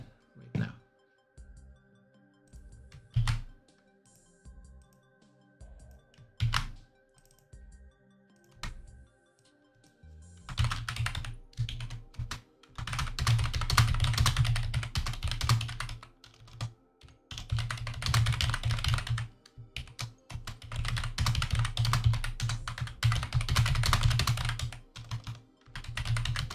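Computer keyboard typing comes in short sparse bursts, then turns into a steady, loud run of rapid key clatter that lasts the rest of the stretch, with no voice heard.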